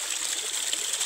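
Water trickling into a catch basin, a faint steady hiss of running water over the brief moment, with no voices.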